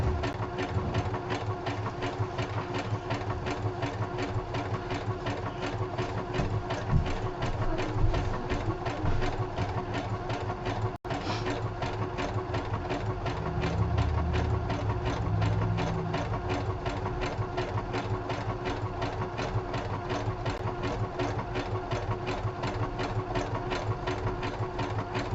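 A sewing machine runs continuously while stitching a craft pocket, its rapid mechanical whir and fine ticking steady and close throughout with no pauses.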